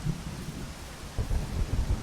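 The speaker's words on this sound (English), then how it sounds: "that thunder and lightning is actually very atmospheric again" Thunder rumbles low beneath steady rain in the pixel-art survival shooter Zero Sievert, a continuous stormy wash with a deeper roll swelling in the second half, no voices.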